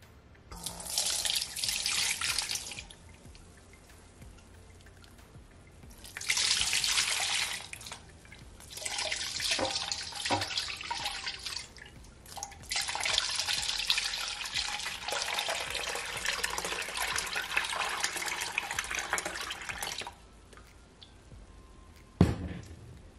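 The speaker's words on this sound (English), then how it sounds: "So guys, this is gonna be my 3rd time straining it" Sorrel and pineapple drink strained for a third time, liquid pouring and splashing in loud bursts separated by quieter gaps, with a sharp clink near the end.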